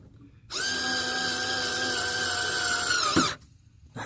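A Black & Decker power screwdriver backing out headlight screws on a 1994 Ford Escort, starting abruptly with a steady, loud whining motor hum that runs about three seconds, then cuts off, close and alone.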